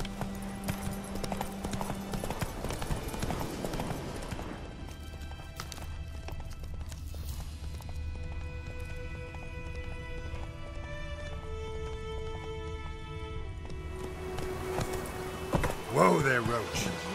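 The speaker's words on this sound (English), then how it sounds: "Whoa there, Roach." Hooves of the horse Roach clip-clop and gallop in The Witcher 3: Wild Hunt, a steady rhythmic beat running through the clip under game music, with a voice speaking over it.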